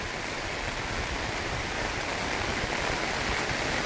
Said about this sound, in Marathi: पूर्ण पाऊस चालू आहे, पाहू शकता तुम्ही।